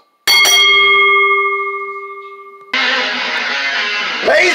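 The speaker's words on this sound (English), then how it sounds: "ring the bell" A ringside bell at a televised professional wrestling tag team match clangs once loudly with a long ringing decay, then is cut off by a burst of crowd noise and cheering.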